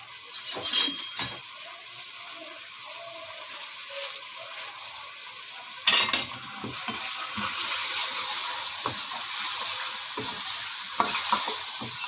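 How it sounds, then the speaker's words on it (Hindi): Carrots and mixed vegetables frying in a tomato masala, a continuous loud hiss and sizzle close by with scattered spoon strokes and scrapes in the pan, and the sizzle growing stronger partway through. "फिर हम इसमें सब्जियां ऐड करके गाजर ले लें, उन्हें भूनेंगे"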